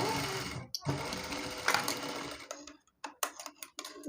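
A sewing machine stitches a gathering pant, running in a steady, close whir for about two and a half seconds, then breaking into short stop-start bursts.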